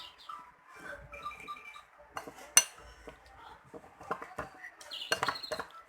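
Cheesecake batter mixed by hand in a bowl, a spoon or spatula clinking and scraping against the sides in irregular quiet bursts, close and faint, with no talk.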